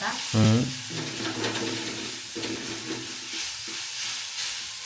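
Ground masala paste roasting in a pan for a Malvani crab curry, giving a steady close sizzle with stirring scrapes throughout and one brief louder scrape near the start; no one talks.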